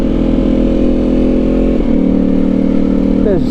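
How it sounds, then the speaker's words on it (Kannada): A Ducati V4R motorcycle with a V4 engine revs and runs steadily close by, its loud rumbling note holding level, then dipping briefly and climbing again toward the end. "ಲೈಫಲ್ಲಿ ಫಸ್ಟ್ ಟೈಮ್ ಓಡಿಸಿರೋವಂಥದ್ದು ನಾನು V4 ಇಂಜಿನ್ನು"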